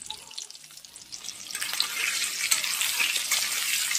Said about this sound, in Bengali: যতক্ষণ আলুটা লালচে না হয় আমরা এটাকে ভেজে নিচ্ছি